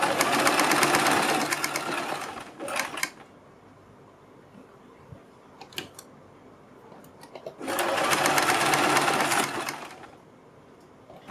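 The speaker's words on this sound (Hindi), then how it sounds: "और हम इनके ऊपर यहाँ पर सिलाई लगाते चले जाएंगे" A sewing machine stitches folded fabric pieces for a kurti or suit neckline, running in two long loud bursts with a pause between and a few small clicks.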